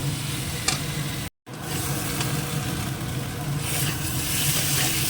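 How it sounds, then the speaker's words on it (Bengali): Ginger paste and spices sauté for a vegetarian biryani with a continuous, even sizzle close by and a few light stirring sounds, cut by one short silent gap. "একটু আদা বাটা একবারে এবার কষিয়ে নিই"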